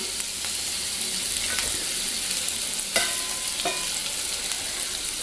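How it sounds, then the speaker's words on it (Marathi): Mustard seeds and spices sizzle and crackle steadily in a very hot kadhai during tempering, a continuous frying hiss with a few sharper pops, close up and without voices. "कढई चांगली तापल्या कारण सांडगे भाजल्यामुळं कढईमध्ये भरपूर असं उष्ण गरम आहे कढई त्यामुळे पटपट फोडणी पण बसली"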